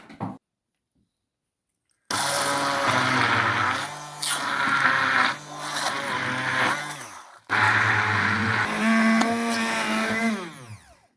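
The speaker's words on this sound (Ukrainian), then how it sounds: "І все це перебиваю погружним блендером." A loud immersion blender whirs in long continuous bursts, its motor pitch wavering as it blends cheese with milk for homemade processed cheese, with a brief pause between runs.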